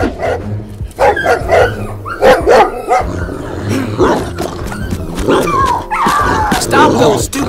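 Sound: dogs barking in Roblox Brookhaven video game

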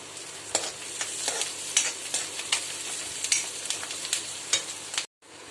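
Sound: green chilli and onion being sautéed in a pan

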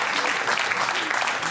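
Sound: studio audience applause

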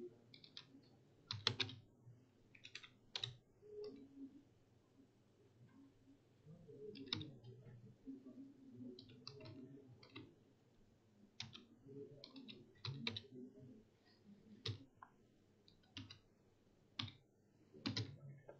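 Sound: typing code on a computer keyboard

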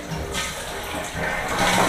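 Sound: toilet flushing

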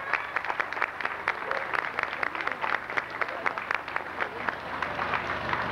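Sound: applause for new members at an anniversary event

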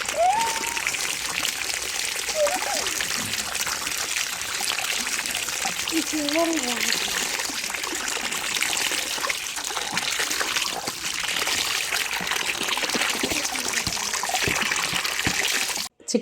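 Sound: water poured into a bucket while washing broad beans

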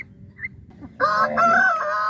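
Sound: chickens crowing and clucking in free-range area

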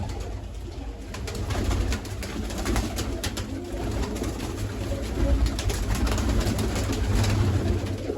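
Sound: pigeons cooing

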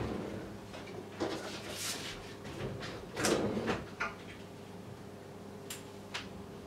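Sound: IKEA drawer snapping shut

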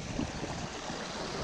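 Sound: waterfall

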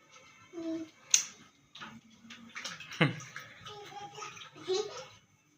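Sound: dunking things in a bucket of water

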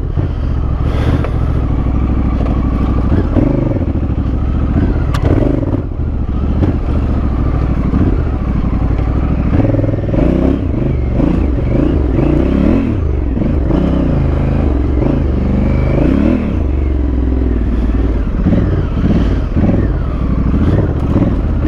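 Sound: dirt motorcycle riding on a trail

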